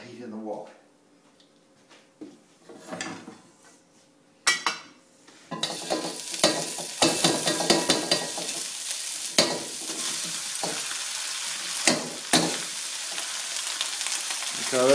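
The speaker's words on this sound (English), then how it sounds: "Bit of peanut oil and coat the wok with warm oil" Peanut oil sizzling and frying in a wok while food is stirred, a steady loud hiss with scraping stir strokes, starting quietly and rising sharply after a few seconds, with a voice talking at first.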